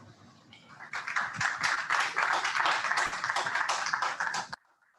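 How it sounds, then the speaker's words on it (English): An audience at the NCDMB Entrepreneurship and Innovation Challenge event gives a round of applause, steady dense clapping for about four seconds that then stops abruptly. "Please, could we give him a round of applause again?"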